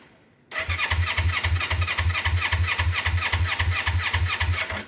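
Suzuki GS500 motorcycle engine starting after a quiet moment, catching suddenly and settling into a steady, close, rhythmic idle with an even pulsing beat.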